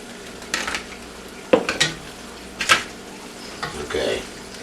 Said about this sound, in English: So now we're going to put the burgers back in. Just throw them back in there.